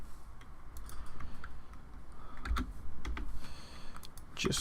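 Fingers clatter across a computer keyboard in quick, uneven bursts of close key taps over a low background hum.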